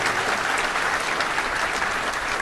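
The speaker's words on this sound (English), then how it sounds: "that's definitely worth a round of applause" Audience applause at a touchdown club luncheon, a dense, steady burst of many hands clapping at close range, loud and continuous with no talk over it.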